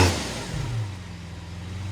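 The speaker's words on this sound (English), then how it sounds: "This car is very loud." Lamborghini Veneno Roadster engine heard close from behind the car: a loud low rumble that swells in a brief rev early on, then settles into a steady deep idle drone.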